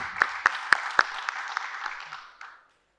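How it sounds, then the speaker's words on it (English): Audience applause welcoming food systems innovators onto a stage, a short burst of clapping with a few louder distinct claps, fading out after a couple of seconds. "So let's welcome everybody with a big round of applause."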